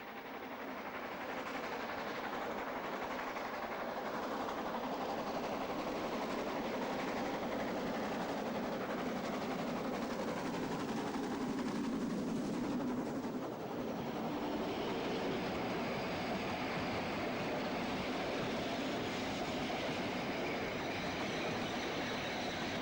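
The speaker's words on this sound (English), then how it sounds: "7235 storms past on the long 1 in 30 grade" Metre gauge steam locomotive 7235 storms up the long 1 in 30 grade toward the Brocken in the Harz, a dense continuous roar of exhaust and rolling wagons that swells as it passes near.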